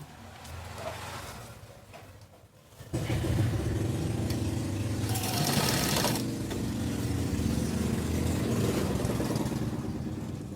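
A sewing machine stitches Patiala pants, starting with a softer stretch, then whirring steadily and loudly at a constant fast pace for most of the clip, with no talking.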